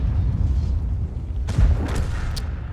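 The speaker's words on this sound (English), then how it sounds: "T-95 fires" A T-95 tank cannon fires once in World of Tanks, a single deep boom with a sharp crack near the middle of the clip, followed by a rumbling tail over steady low battle noise.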